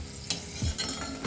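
Wheat kurdai frying in hot oil, a quiet close sizzle with a few soft clinks of a utensil against the pan.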